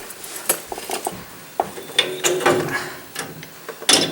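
Metallic clinks and scraping as a nut is removed and a part pulled from the rear differential of a Dodge RAM 1500, close and intermittent, with sharp clanks at irregular intervals.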